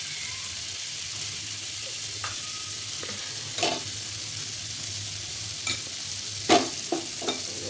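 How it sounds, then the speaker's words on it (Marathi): A quiet, steady sizzle of butter melting on a hot griddle, broken by a few faint scraping and clinking sounds. "तवा तापून घेतलाय, त्यावर लोणी घालायचे."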